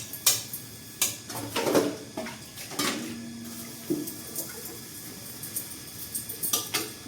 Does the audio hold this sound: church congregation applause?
no